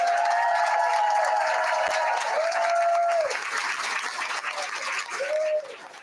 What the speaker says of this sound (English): If we could please have all of our exceptional volunteers stand up and give them one more round of applause.